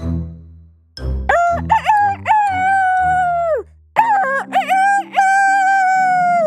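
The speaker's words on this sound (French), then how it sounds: "un coq sauta sur sa tête et se mit à chanter." A rooster crows loudly twice, close by, each call a drawn-out cock-a-doodle-doo.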